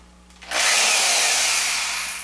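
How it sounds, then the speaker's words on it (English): Power drill boring into the wooden base of a homemade Wing Chun dummy, a sudden loud whirring grind that starts after a brief quiet moment and holds steady close by. "Now it's time to drill."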